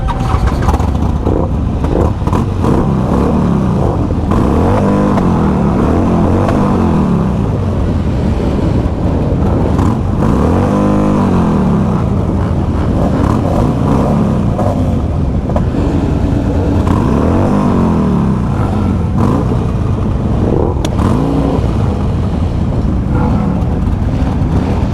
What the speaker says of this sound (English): We're getting ready for my favorite part where everybody fires their bikes up all at once.